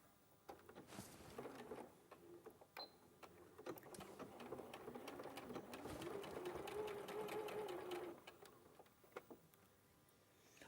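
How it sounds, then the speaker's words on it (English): A sewing machine sews fabric seams with a one-centimetre allowance, starting with scattered clicks and short bursts, then settling into a steady stitching run for several seconds before stopping, followed by light handling noises. "So we'll just sew those"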